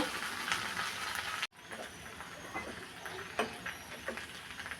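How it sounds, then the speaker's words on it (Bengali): Okra fries in a pan with onion, green chili, salt and turmeric, a constant close sizzle broken by one brief dropout and a few sharp crackles as it is stirred. "লবণ হলুদ পেঁয়াজ কাঁচামরিচ সব কিছু দিয়ে নেড়ে ছেড়ে ভাজা করে নিব"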